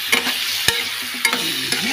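A kilo of raw prawns is stirred in a pan with curry, about four quick scraping strokes of the spoon cutting through a soft, steady sizzle, close and clear.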